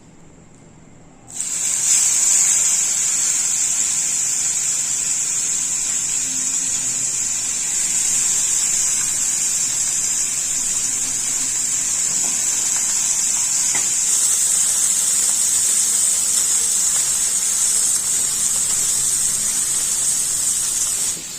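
Small mourala fish drop into hot oil and a loud, sudden hiss of sizzling erupts, then holds as a dense, constant crackle close by for the rest of the stretch.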